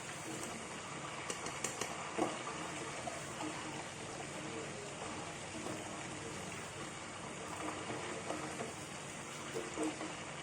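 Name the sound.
frying jengkol beans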